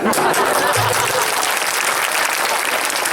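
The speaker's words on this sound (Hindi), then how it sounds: "आओ दिल खोल के ताली बजाओ भैया" A crowd claps throughout at a devotional gathering, dense and loud without a break, with a little voice at the start.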